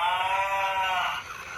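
A toy cow gives a steady electronic bleating moo, loud and close, lasting just over a second and then trailing off.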